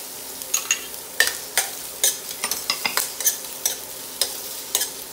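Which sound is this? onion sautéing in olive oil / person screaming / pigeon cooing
onion sautéing in olive oil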